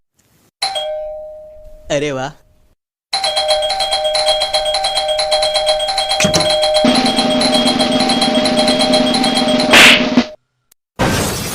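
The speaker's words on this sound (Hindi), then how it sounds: "घंटी बजा रहे तो पगलैती कहाँ हो रही?" An electronic doorbell rings, its chime repeating in bursts and then sounding at length, loud and close. Voices talk briefly around it, and a thump falls midway.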